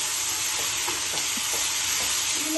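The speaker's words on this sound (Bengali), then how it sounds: "দিয়ে আবার মিশিয়ে নিচ্ছি একটু।" Tomato and spices, including ground coriander and red chilli powder, fry in a pan for chana dal under a steady sizzling hiss, with a few soft scrapes of stirring close by.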